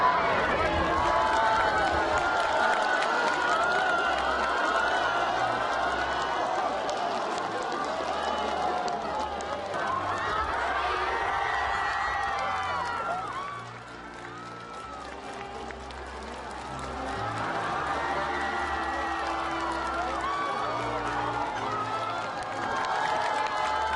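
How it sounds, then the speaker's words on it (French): Roadside crowd of mixed ethnic groups welcoming a visitor in the Tianshan mountains, with sustained applause and cheering at steady loudness, dipping briefly midway, layered with a dense crowd murmur throughout. "des personnes de toutes les ethnies l'ont chaleureusement accueilli sur le bord de la route, l'applaudissant et l'acclamant longuement"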